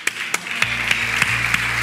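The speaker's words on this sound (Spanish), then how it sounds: "Mano de aplausos hoy." Audience applause at a live comedy talk show, a short run of evenly spaced claps, fairly loud and close, with a low tonal hum underneath and no voices.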